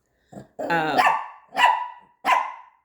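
A dog close by lets out three or four sharp, loud barks in quick succession, with a rough growl-like start before the first one.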